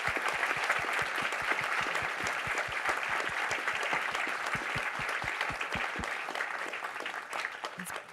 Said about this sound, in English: just to give a massive round of applause